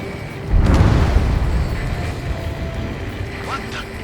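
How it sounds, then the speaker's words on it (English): In the video game Ace Combat 7, a deep muffled underwater explosion swells into a heavy rumbling boom that lingers and fades beneath game sounds and radio chatter. "A huge explosion just went off underwater."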